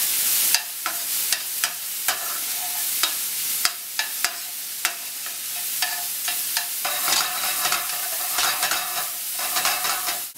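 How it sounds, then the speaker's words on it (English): A pan with bacon, vegetables and mushrooms sizzles steadily while a utensil scrapes and stirs in regular sharp strokes, close and clear with no talking. "we're constantly deglazing our pan"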